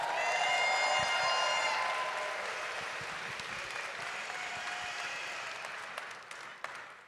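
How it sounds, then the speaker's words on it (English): Audience applause at a First Tech Challenge robotics event in the Canadian Rockies, honoring parents, coaches, mentors and volunteers; a broad wash of clapping rises at the start, then gradually thins and fades over several seconds. "Big round of applause for all of them."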